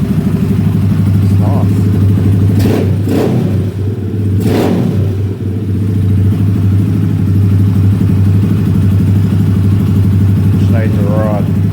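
Zongshen 250cc dirt bike engine idling steadily without choke after a top end rebuild, a loud close continuous thrum throughout, with a few clattering knocks and a brief spoken word over it.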